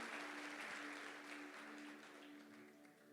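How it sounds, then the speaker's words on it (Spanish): Applause from a church congregation during a Spanish-language service, a steady wash of many hands clapping that fades slightly toward the end, heard fairly distantly and faintly. "Denle un aplauso a Jesús."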